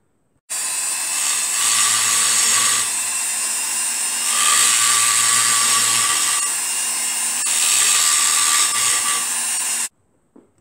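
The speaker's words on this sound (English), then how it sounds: "just got the sanding drum on the die grinder and just blended it in a bit and made it all nice and smooth" Die grinder fitted with a sanding drum grinding metal, a loud high-pitched continuous whine that swells in three pressure surges over about nine seconds, then cuts off.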